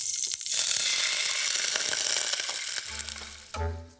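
Onions frying in butter with a pinch of fleur de sel, a steady bright sizzle throughout, with a few clinks and low thumps near the end and no talk.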